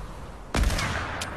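One sharp, loud Fortnite gunshot cracks out, followed by a short decaying tail and a fainter, smaller report a moment later.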